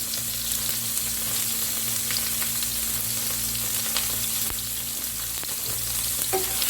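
Tomatoes fry in a pan of oil while a meat soup is cooked, giving a steady, close sizzle with a low hum, faint stirring scrapes and a few soft clicks throughout.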